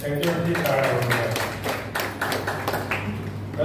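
A crowd claps at a Chaitra Purnima and Samrat Ashoka Jayanti gathering, dense steady clapping close by that tapers slightly toward the end, with a voice speaking underneath.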